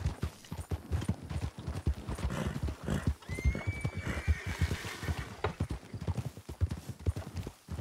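A horse in Red Dead Redemption II trots with rapid, rhythmic clip-clop hoofbeats, and a clear whinny rises in the middle of the steady footfalls.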